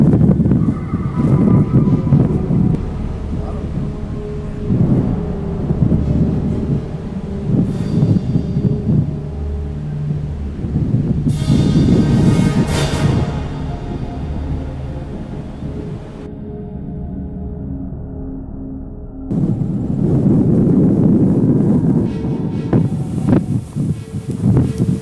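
Strong wind from Hurricane Irene at Barnegat Light, New Jersey, as the eye passes over, a loud continuous roar pounding the microphone with gusty surges and rumbling low buffeting, no talking.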